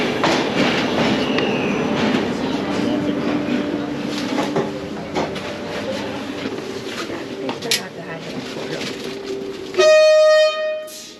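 Inside a passenger train carriage in Romania, heading toward the mountains, with a steady rumble and rattle of the moving train throughout, then a loud horn-like tone sounding near the end; some talk blends into the background.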